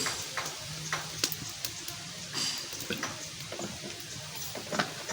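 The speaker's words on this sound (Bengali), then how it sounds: "কড়াইটা বসাই দিচ্ছি এবারে রান্না শুরু করবো তেল দিয়ে দিচ্ছি" Oil heating in a wok, a quiet, thin sizzle with scattered ticks and soft scraping knocks of a utensil, faint and close, no one speaking.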